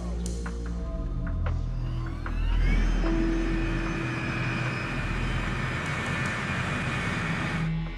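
A Boeing 747 freighter taxiing on a crowded military airfield taxiway in Afghanistan, its engines giving a loud, steady droning roar with a rising whine that swells mid-way and holds, heard alone without speech.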